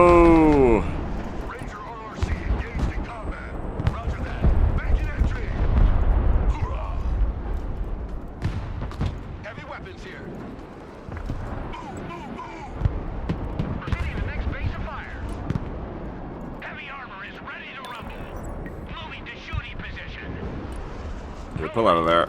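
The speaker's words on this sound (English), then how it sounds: "Marines under fire. Artillery." Artillery and gunfire in the video game Broken Arrow, a dense barrage of booming blasts and crackling shots rolling through a battle scene, with voices talking over the din throughout.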